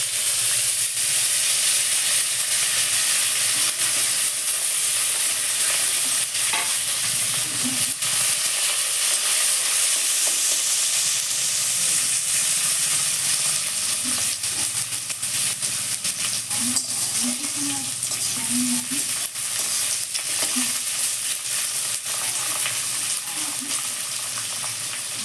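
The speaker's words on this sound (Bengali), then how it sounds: "আমার পেঁয়াজটা ভাজা হয়ে গেছে।" Chopped onions fry in a pan of hot oil with whole garam masala, part of a Bengali pointed gourd and prawn curry, giving a loud, steady, continuous sizzle with a few faint clinks throughout.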